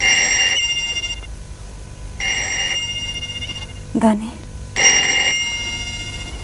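A telephone bell rings in repeated long trilling bursts with gaps between them, fairly loud and near, while a voice briefly speaks during one of the pauses.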